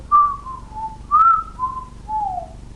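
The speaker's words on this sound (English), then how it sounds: "he's whistling" Someone whistles a short, gliding tune, a few sustained notes sliding downward in phrases, clear and close with nothing else around.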